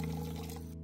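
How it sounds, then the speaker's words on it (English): Water poured into a pot of tomato rasam seasoned with turmeric, red chilli powder, rasam powder and tamarind juice, a steady close splashing flow that runs alone and stops abruptly near the end. "Add 4 cup of water."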